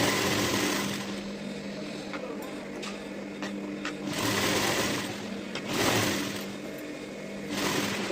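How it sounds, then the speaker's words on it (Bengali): A sewing machine stitches a blouse along a marked line, running in a steady mechanical whir with a few brief pauses and changes in speed, close and continuous with no talk. "এবার এই দাগের উপর দিয়ে আমি একটু সেলাই দিয়ে দিলাম"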